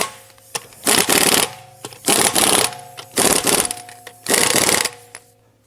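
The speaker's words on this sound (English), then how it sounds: "I'm gonna get these bolts snug and then we're gonna torque them down." Bolts on the rear brake of a Mercedes S550 are run in with a ratcheting tool, four distinct bursts of rapid clicking separated by short pauses, close and loud over a faint steady hum.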